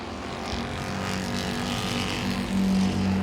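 Super Streets race cars roar around Langley Speedway, a steady loud engine drone with rising and falling pitch as cars run close together, one car torn up.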